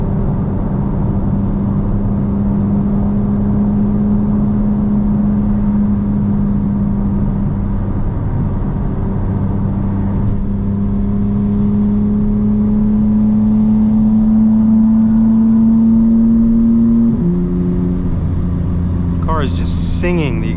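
Steady droning exhaust note from a 2025 BMW M4 CS cruising at night in traffic, holding a constant tone that shifts pitch near the end; voices talk over it inside the cabin.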